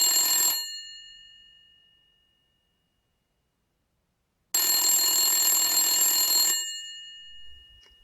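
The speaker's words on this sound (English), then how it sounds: "His phone rang around 9 p.m." A telephone bell rings in two bursts: one ring trailing off in a long ringing decay, then after a silent pause a second ring of about two seconds that also fades.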